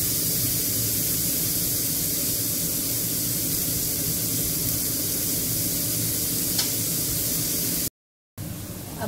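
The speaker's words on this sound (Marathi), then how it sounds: "भाजी हलवत न्यायची सारखी, नाहीतर मग ती खाली लागेल तव्याला।" Vegetable filling for a kabuli chana frankie frying on a hot griddle (tava) while being stirred, giving a steady, close, continuous sizzle that runs unbroken before a brief cut near the end.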